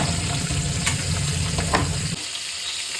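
Fish frying in a pan, a loud, dense sizzle close by for about two seconds before the spitting drops away to a quieter hiss.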